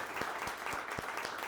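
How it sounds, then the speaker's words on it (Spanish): Dense, steady applause from an audience at an artificial intelligence book presentation fills the clip at an even level, with a few sharper claps standing out. "les pido un aplauso"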